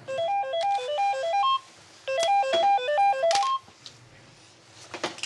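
A telephone rings in a hospital on-call room with a stepped, melodic electronic ringtone in two bursts separated by a pause, fairly close, followed by quieter room noise and faint clicks.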